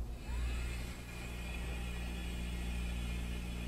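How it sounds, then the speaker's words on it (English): A vacuum pump runs on a vacuum chamber degassing liquid polyester resin, giving a steady, close droning hum with a constant whirring tone throughout and no talking. "So we're going to put this in our vacuum chamber."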